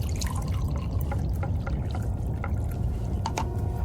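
Coffee poured into a cup, a close liquid trickle with faint drips over a dense low rumble, no talk.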